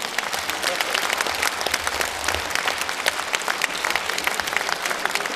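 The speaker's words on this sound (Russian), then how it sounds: "Павел Николаевич Балакшин, аплодисменты!" A concert audience at a humorous literary performance claps steadily throughout, with a dense, even texture of many hands and individual claps standing out.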